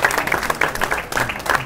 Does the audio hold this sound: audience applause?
yes